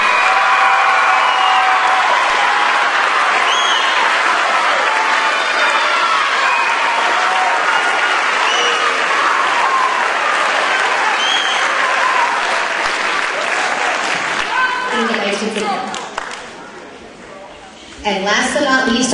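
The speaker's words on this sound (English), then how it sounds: "Can we give these 5 students a big round of applause?" At a spring school concert, a big round of applause for five students rises loud and full with some cheering, carries on steadily, then fades out as voices take over near the end.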